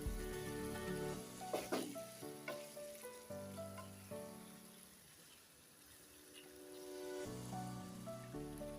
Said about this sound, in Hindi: अभी हम इसमें डाल देंगे 1 कप टमाटो प्यूरी।